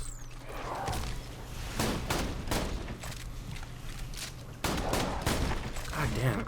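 Shotgun blasts in the video game Borderlands 2, a series of sharp booming shots at irregular intervals mixed with game effects, fairly quiet overall.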